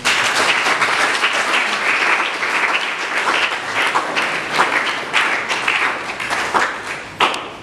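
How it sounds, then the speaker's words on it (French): An audience at an International Day of the Girl ceremony in Bandundu applauds a woman presiding over the event, a dense, sustained crowd clapping that stays loud and steady throughout with no talk over it. "sous vos applaudissements, s'il vous plaît."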